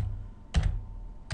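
Typing on a computer keyboard, two short clusters of quick key clacks separated by a pause, close and fairly soft.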